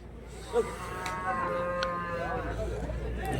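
Buffaloes at a cattle market in Bagalur near Hosur lowing and mooing in a long drawn call, moderately near, over steady crowd murmur and background noise.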